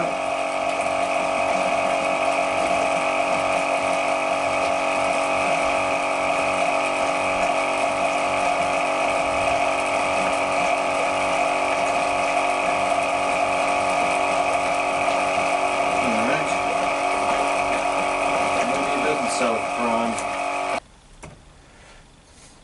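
A boat water pump sucks air through a loosely fitted filter top, making a steady mechanical whirring drone with faint ticking rattles that runs for about twenty seconds before cutting off abruptly.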